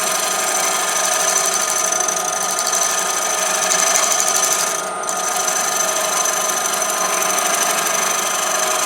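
A woodturning lathe tool takes a light cut on a spinning wooden bowl, a steady hissing, whirring shave with a brief dip midway, continuous and close, with no talk.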